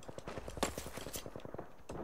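Gunshots in a video game: a steady run of quick, evenly spaced shots at moderate level throughout, with a brief louder crack partway through.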